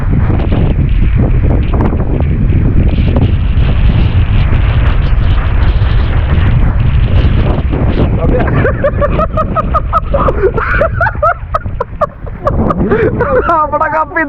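Strong monsoon wind buffets a rowing boat in Kerala, a loud continuous roar with gusty surges; voices talk over it toward the end.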